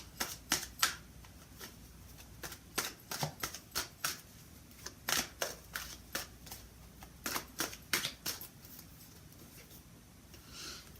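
Tarot cards shuffled for a reading, a steady run of crisp riffling snaps and flutters that repeats in quick bursts, close and fairly quiet, with no talking.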